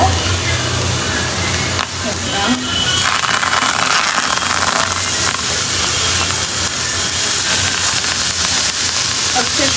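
Vegetables frying in a hot pan in a home kitchen, a steady loud sizzle and hiss that runs throughout with a few clatters of utensils, while someone talks over it.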